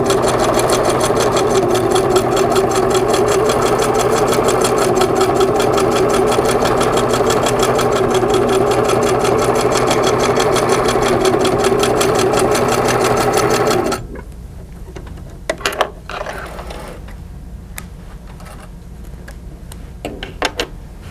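A Singer 2000 sewing machine runs at a steady rapid stitching rhythm through a quilt, loud and close for about fourteen seconds before stopping, followed by a few scattered clicks and handling knocks.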